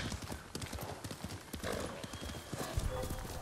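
Close, steady galloping hooves of a horse in the video game Ghost of Tsushima, a quick drumming rhythm running through the short stretch.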